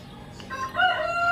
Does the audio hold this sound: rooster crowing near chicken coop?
yes